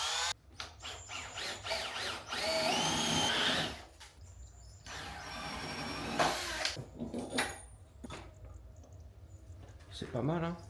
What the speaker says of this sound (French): je vais percer mon trou pour la tige filetée. Pour ça, j'utilise de la mèche à bois classique, diamètre 16